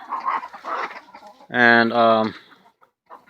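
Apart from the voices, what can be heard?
roosters crowing and clucking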